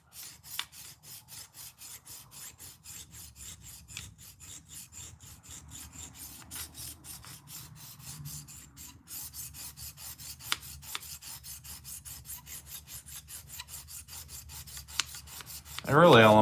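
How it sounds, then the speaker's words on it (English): Case trapper knife blade being reprofiled on a sharpening stone: a steady, close rasping scrape repeated in quick back-and-forth strokes throughout, with a louder knock at the very end and no talk. "all I'm going to do with these is get my initial bevel and burr, and then I'll move into that finer stone on that tri-hone"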